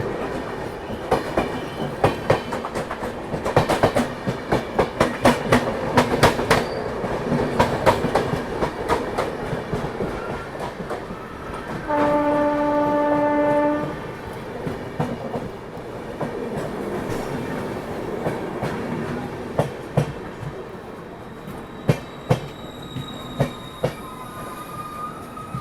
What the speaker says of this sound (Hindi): मेरे ख्याल से ये अवध एक्सप्रेस होना चाहिए